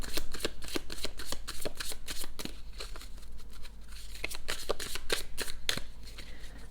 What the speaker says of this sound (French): on va voir encore avec les cartes astrologiques, qu'est-ce qu'on veut nous dire.